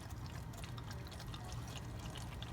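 Engine oil drains from a Mercedes-Benz E350 into a pan, a soft continuous pouring trickle of liquid, steady and fairly quiet, with no voices.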